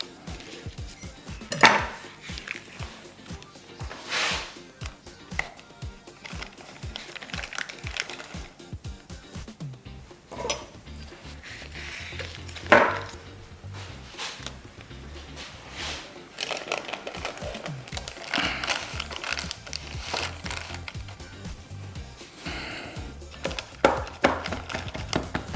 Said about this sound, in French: Alors, on va découper une lamelle comme ça.